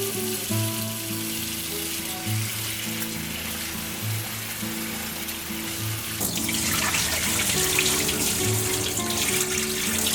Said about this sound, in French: Donc là maintenant on va nettoyer le riz.